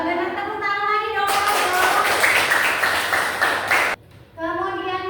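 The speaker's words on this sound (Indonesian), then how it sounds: "Benar, tepuk tangan lagi dong." A classroom of children bursts into a short round of brisk clapping between stretches of a teacher's voice, the hands loud and close for a few seconds before the talk resumes.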